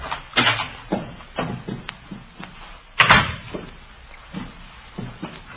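An apartment door opens in an old radio police drama, a sharp knock-like thud midway among softer footsteps and low movement sounds, fairly close.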